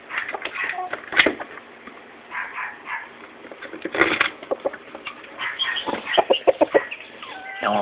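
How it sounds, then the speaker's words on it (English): Chickens cluck and murmur in a steady, busy stream of short calls, close by and fairly loud, with scattered sharper squawks rising above the flock. "Chickens want food."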